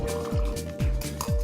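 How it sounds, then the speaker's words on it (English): Cocktail liquid poured back and forth between two metal tins through a Hawthorne strainer, a close, splashy gurgling stream in repeated pours with rising fill tones and brief pauses between them. "I'm going to pour this liquid from one to the next"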